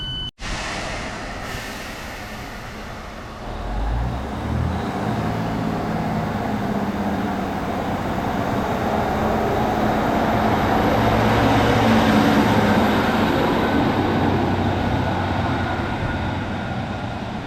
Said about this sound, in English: So there goes 153318 heading off on the 1000 Transport for Wales service to Shrewsbury